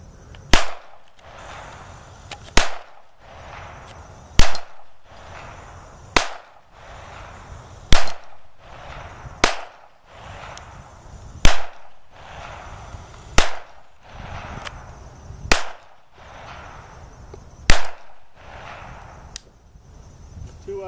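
Repeated gunshots from guns fired at targets outdoors, sharp cracks spaced a second or two apart with brief echoing tails over steady background noise, roughly a dozen shots in all.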